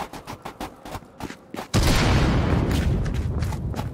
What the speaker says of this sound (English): Two flashbangs in, one more.